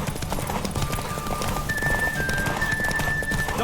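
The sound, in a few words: horse galloping hooves in video game The Witcher 3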